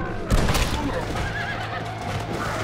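A horse whinnies in Red Dead Redemption: Undead Nightmare, its neigh rising and falling under a busy mix of game noise, hoofbeats and a voice talking over it.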